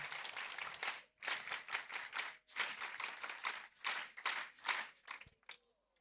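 Clapping from a church congregation at an ADEPR prayer service, rhythmic bursts of applause in waves with brief pauses, fading out near the end.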